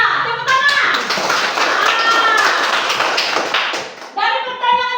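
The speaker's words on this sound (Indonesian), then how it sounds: "Iya, tepuk tangan." Schoolchildren in a classroom clap together in a quick burst of close, sharp claps lasting several seconds, bracketed by a voice and a voice.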